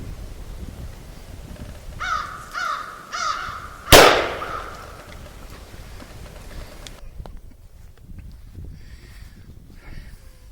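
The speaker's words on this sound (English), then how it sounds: "Now we're going to shoot number 6 shot at 15 feet." .44 Magnum firing number 6 shot at 15 feet at a rustic deer hunting camp, a single sharp, loud gunshot crack with a short decay, preceded by three bird caws in the background.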